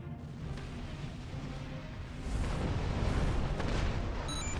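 A starship in a Star Trek game takes weapons fire: a dense, rumbling barrage of booms and bursts that grows louder about halfway through and then holds steady, with no talking.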